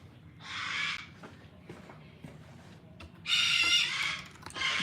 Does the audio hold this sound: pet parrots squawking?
yes